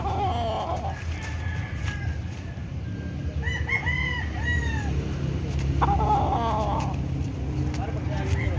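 Chickens cluck and a rooster gives brief crowing calls over steady outdoor background noise at a cockfighting event, with faint voices nearby.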